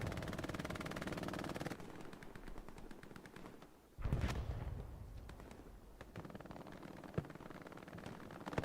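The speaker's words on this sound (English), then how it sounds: "listen to the MG42s" MG42 machine guns rattle in the World War II shooter Hell Let Loose, a dense rapid burst up close that breaks off, followed by more distant bursts and scattered gunfire.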